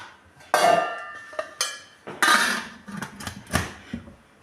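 A metal lid clatters onto a steamer pot of idiyappam, a few sharp clanks and rattles in quick succession, close and fairly loud, with no voices.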